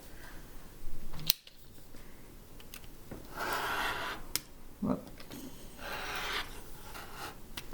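Quilting fabric for a sampler block is cut with a rotary cutter, giving a few soft rasping strokes and scrapes, with a sharp click early on, close but quiet and without talk.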